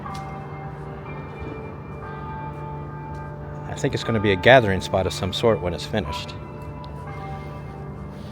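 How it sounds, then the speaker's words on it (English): A church bell rings with steady, sustained tones in the background while someone talks over it in the foreground. "There's that church bell in the background."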